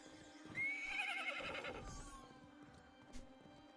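A horse in the video game Minecraft Legends lets out a bright, drawn-out neigh, then gallops with hoofbeats at moderate volume over a quiet game background, with no talk.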